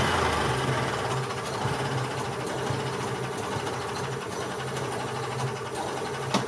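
A 2001 EZGO TXT gas golf cart engine running steadily, with a close, buzzy, rapid mechanical chatter and low throb held at an even level throughout.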